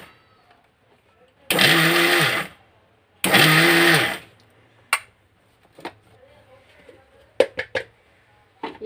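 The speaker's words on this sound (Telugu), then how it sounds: "ఈ వెల్లుల్లిపాయలు వేసేసుకుందాం. వేసుకుని దాన్ని కూడా ఒకసారి పలసిచ్చుకుంటూ గ్రైండ్ చేద్దాం" A mixer grinder whirs loudly in two strong bursts while grinding garlic into a curry leaf spice powder, followed by scattered clicks and taps at close range.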